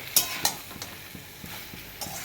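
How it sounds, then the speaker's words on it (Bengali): Half-boiled taro stolons sautéing with prawns in an oily pan, a low sizzle broken by a few sharp scrapes and clinks of the spatula, close and without talk. "এবার এটার সাথে কচুরলতিটা এবার এর সাথে কষানো হবে।"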